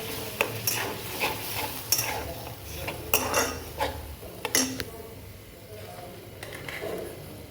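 A spoon stirs curd into fried chilli and garlic in a pan, giving soft scraping strokes and light clinks of metal on the pan, with a faint sizzle underneath.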